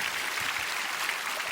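A church congregation at a Daniel Prayer Meeting claps for those who sat the college entrance exam, giving soft, fairly distant applause that stays steady and even without any talking.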